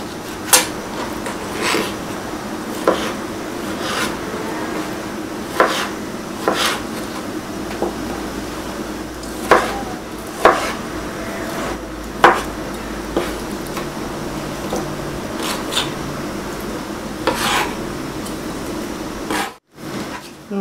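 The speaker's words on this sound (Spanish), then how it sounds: "Y los voy a cortar en pequeños trocitos." A knife chopping kiwi into small pieces on a cutting board, a steady series of sharp, close taps spaced about a second apart in a quiet kitchen.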